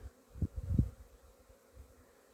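Honeybees from ten-frame hives fly out on their first cleansing flight of the year in February, a few brief close buzzing passes over a faint, quiet background.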